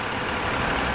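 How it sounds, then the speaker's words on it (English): A 2007 BMW 328xi E90 with a stalling fault idles steadily, a continuous close engine hum with a faint knocking texture and no voices. "it's been idling for a while now"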